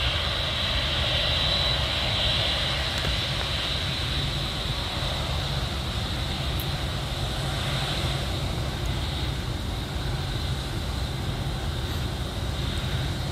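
Jet airliner at Miami airport, a steady broad engine roar that holds loud and continuous throughout with no voices.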